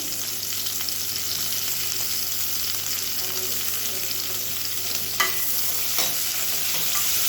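Sliced large onions sizzling and frying in hot oil, a steady close crackle with a couple of soft stirring knocks.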